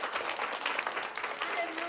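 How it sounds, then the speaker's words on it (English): A crowd at an outdoor summer reading program event applauds Miss Lorna, with steady clapping from many hands throughout, mixed with some voices. "Let's give her a hand."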